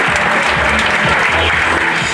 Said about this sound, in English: let's have a round of applause for Eastleigh's number one fan